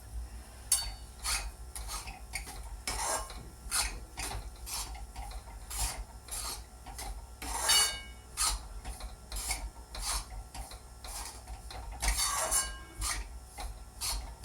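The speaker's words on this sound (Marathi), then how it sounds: "अजून मी 2 चमचे घालते आणि त्याच्यावर मी भाजून घेते आता पीठ" Flour being roasted in ghee in a pan for healthy mung bean ladoos, giving a steady scraping and stirring rasp with repeated strokes of a spoon against the pan, close and fairly quiet, with no voices.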